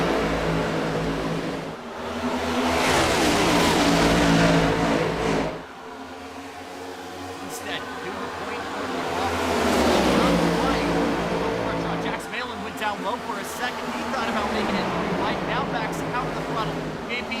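Simulated stock car engines roar through a sim race at Charlotte Motor Speedway in iRacing, a dense field droning and swelling loudly in waves as cars pass, with a commentator talking over the noise.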